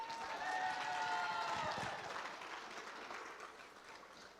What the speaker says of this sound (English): I'd like to ask everyone to give one final round of applause